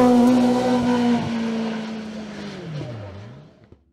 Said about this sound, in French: Jean-Michel Lestienne s'offre une nouvelle victoire de classe sur sa Midget 1400